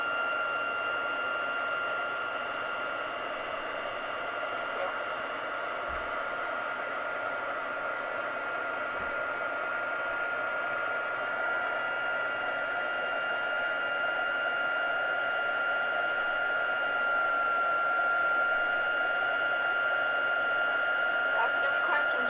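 A heat embossing tool blows hot air in a steady, even hiss with a faint whine at a crafting desk, running unbroken at a constant level for the whole stretch.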